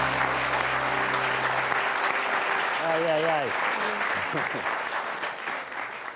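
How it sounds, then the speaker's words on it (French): A TV studio audience on a French comedy show applauds as a guest is introduced, with continuous crowd clapping throughout, a short musical sting at the start and a voice briefly exclaiming midway over the applause. "Merci d'applaudir Adèle Barbers."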